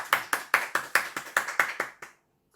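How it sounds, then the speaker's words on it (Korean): Church congregation clapping together to celebrate birthdays during a Sunday service, about ten sharp, evenly spaced claps in a quick steady rhythm that stop abruptly into silence. "다 같이 박수로 축하하겠습니다"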